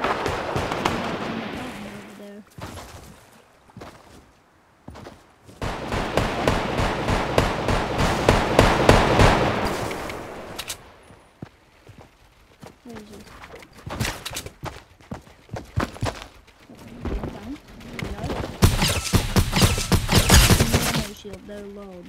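Gunfire in the video game Fortnite comes in rapid bursts of repeated shots, with a long volley in the middle and another near the end. Quiet stretches fall between the bursts.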